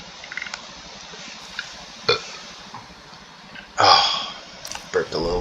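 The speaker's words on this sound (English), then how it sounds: "Oh, burped a little bit there" A person gives a short, fairly loud burp near the end, set among quiet breathy room sounds and a few faint clicks.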